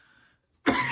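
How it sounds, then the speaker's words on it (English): A single sharp cough bursts in near the mic after a quiet lull, loud and broadband, with a raspy throat-clearing edge from someone nursing a lingering cough. "she hates when I cough"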